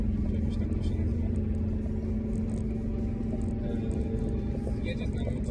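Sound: vehicle driving on the way to Łęczna

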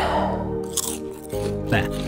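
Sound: character eating in the video game Moon Farming

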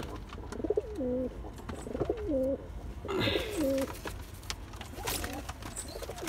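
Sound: pigeons cooing

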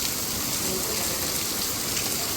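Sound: heavy rain

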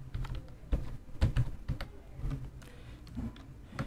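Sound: typing a folder name on a computer keyboard

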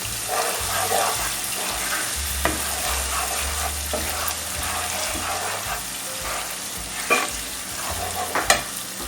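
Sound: sautéing minced meat with tomato paste in a pan

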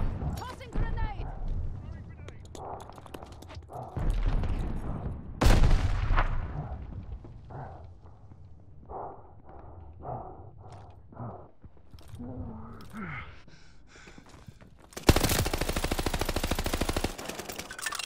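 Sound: heavy gunfire in Call of Duty: Vanguard video game

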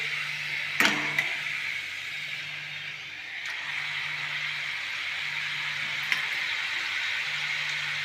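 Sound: frying on a low flame for manchow soup

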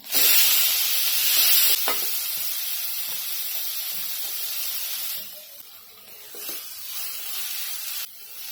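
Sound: onion frying in butter with cumin and asafoetida

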